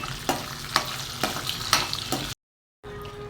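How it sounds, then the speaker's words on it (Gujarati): Onion and capsicum frying in oil for paneer butter masala, a steady hiss with repeated stirring scrapes, then a sudden cut to silence and a quieter sizzle. "હવે આપણે ઓનિયન ને કેપ્સિકમ ફ્રાય કરવા રાખ્યા છે."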